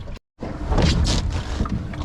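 A small sailboat under sail on open water, with steady wind rushing across the microphone and hull noise, loud and close, after a brief dropout at the start.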